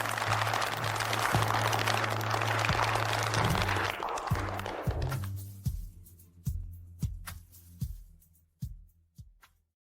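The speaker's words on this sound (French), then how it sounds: "Applaudissons-la." Clapping from an audience after a violin solo of a canon at a school performance, dense and sustained at first, then thinning into scattered individual claps that fade out.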